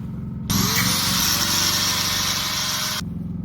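An angle grinder works on a brake wheel cylinder, a steady, loud, high whine running continuously for about two and a half seconds, close up, starting and stopping abruptly over a low background hum, with no speech.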